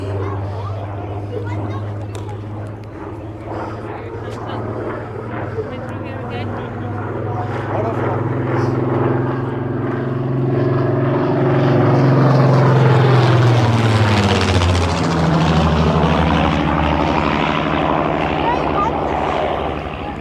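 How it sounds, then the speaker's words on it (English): A Spitfire propeller fighter flies past at a village classic and vintage fun day, its engine drone swelling from distant to loud overhead, peaking midway and fading, with people talking throughout. "Luckily, someone from this village knows someone in the RAF, so that's why they're able to get the Spitfire."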